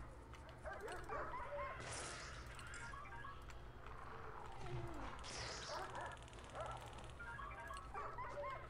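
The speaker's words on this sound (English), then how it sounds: "Wow, that dog isn't very tough." In the video game Prison Architect, a dog gives yips, barks and whimpering cries, several bursts spread across a quiet, faint background.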